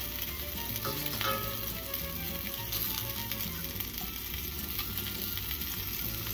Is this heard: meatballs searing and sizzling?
yes